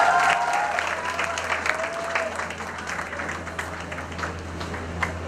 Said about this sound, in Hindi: तालियां यार सबके लिए बज सकती है।